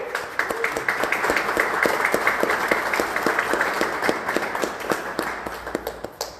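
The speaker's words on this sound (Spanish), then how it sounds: "les pedimos un fuerte aplauso, por favor" An audience at a conference lecture on adobe and lime architecture gives a long round of applause. Individual hand claps stand out sharply within a steady, unbroken wash of clapping, with no talk over it.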